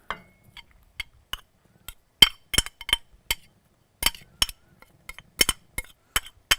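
A utensil clinking against a dish while stirring pasta with whole milk and grated cheese, sharp irregular taps and scrapes scattered in quick clusters, close and alone.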